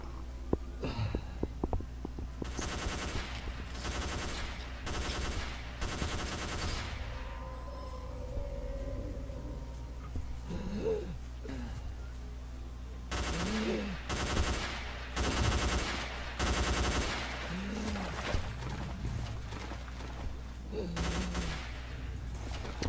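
Bursts of automatic gunfire in STALKER: Call of Pripyat with the Misery mod, rapid repeated volleys in several clusters, loud and sharp, separated by quieter stretches where footsteps and low ambient rumble come through.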